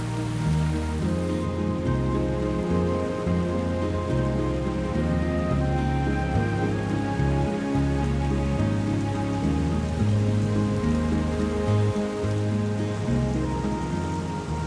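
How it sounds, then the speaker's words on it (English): Heavy rain falls for hours on the African wilderness, a steady hiss of drops on surfaces with tonal music layered over it and no voices. "The rain lasts for hours."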